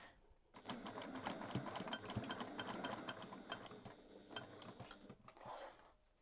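Close and fairly quiet, a sewing machine stitches a seam on a handmade fabric zipper pouch, its mechanical ratcheting chatter running for several seconds before slowing into a few short, separate bursts near the end.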